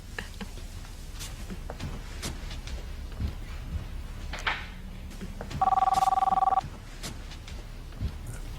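A telephone rings once indoors in a short electronic burst of about a second, standing out clearly over quiet room noise.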